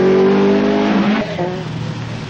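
A rally car on a 1978 Manx Rally stage roars hard at close range, its engine pitch climbing then dropping away as it passes, leaving a rougher, fading growl.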